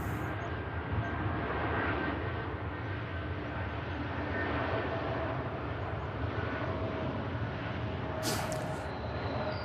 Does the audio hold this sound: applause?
no